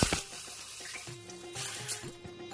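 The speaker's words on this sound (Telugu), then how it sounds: "4 గ్లాసులు నీళ్ళు పోయాలి." Water is poured into a pan of fried onions and chillies for rava upma, a steady splashing, gurgling stream lasting a few seconds, moderately quiet with no voices.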